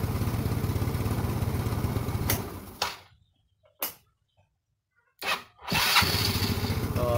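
A motorcycle engine wired to start without a bendix or relay cranks and runs loud and close, then cuts to near silence broken by two short revving bursts before settling back into a steady running drone.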